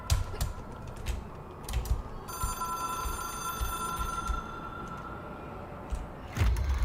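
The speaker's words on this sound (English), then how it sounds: "It is a phone." A telephone rings in a single long, steady electronic trill for several seconds amid faint clattering, then cuts off abruptly.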